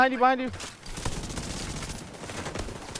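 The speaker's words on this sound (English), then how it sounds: "I'm getting shot in my back, bro." Dense rattling gunfire from the shooter game The Division 2 fills the clip, following a brief burst of a voice at the start.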